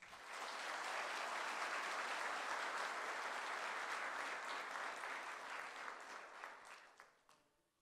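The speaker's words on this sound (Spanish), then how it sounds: "Un aplauso, por favor." An audience at a university degree-conferral ceremony applauds steadily for several seconds, and the clapping fades out at the end.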